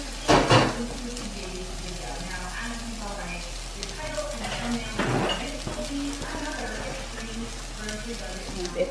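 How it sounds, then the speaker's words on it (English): Egg-soaked bread lands on a hot skillet and frying noise settles in, with clattering pan contacts at the start and midway, while someone talks over the cooking. "place my bread into my egg and goodness mixture and place it on the skillet"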